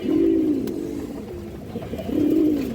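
Paired pigeons offered for sale give two rolling, throaty coos, one at the start and one near the end, close and clear over a low murmur of background noise.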